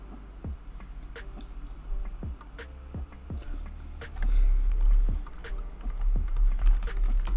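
Keys on a computer keyboard are struck in sparse, irregular clicks at close range, a handful of separate taps spread out over a low hum.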